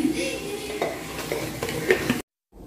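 Chicken being stirred into a spiced masala in a pan, a steady sizzle with repeated scraping strokes of a spoon against the pan, close and fairly loud, then cutting off abruptly into silence near the end.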